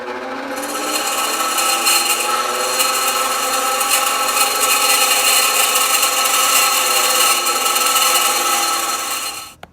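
Metal pieces for a homemade toy drag race track being trimmed into a V shape for welding, a loud, continuous close grinding rasp held steadily for nearly ten seconds before stopping abruptly.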